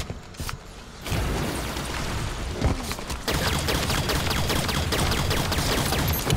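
Rapid gunfire in a Halo match, a quieter opening burst and then dense, continuous automatic shots with booming hits that stay loud to the end.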